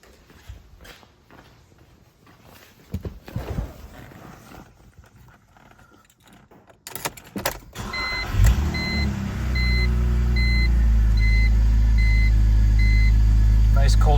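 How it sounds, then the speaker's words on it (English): A 2003 BMW E46 330i ZHP Touring wagon cold-starts about eight seconds in, its engine catching with a loud burst and then settling into a steady, high, fast idle that stays close and strong, after quiet rustling and handling noises. "Nice cold start, nice cold idle."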